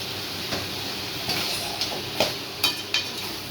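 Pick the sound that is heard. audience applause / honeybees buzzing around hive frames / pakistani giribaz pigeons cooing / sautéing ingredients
sautéing ingredients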